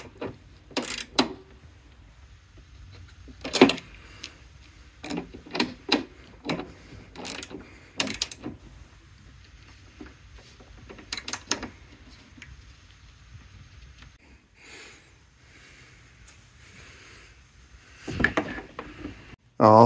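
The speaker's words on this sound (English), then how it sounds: "Putting the tire back on." A car tire being mounted back on and torqued down, heard as a string of sharp metallic ratcheting clicks and clunks in uneven bursts, with quiet pauses in between and a louder clank near the end.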